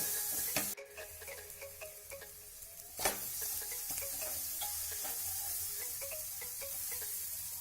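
Boiled dal being stirred into sizzling masala in a pan for dhaba-style egg tadka, with a steady low sizzle, scattered scraping taps from the spoon, and a sharp knock near the start, heard close and alone.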